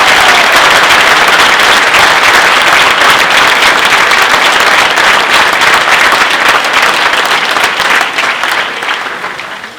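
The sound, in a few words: audience applause for the chancellor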